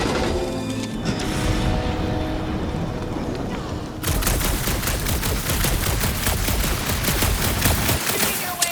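Sustained rapid blaster and gun fire erupts in Marvel's Guardians of the Galaxy, dense continuous bursts after an opening stretch of mixed battle noise and music, loud and close, with voices talking over parts of it.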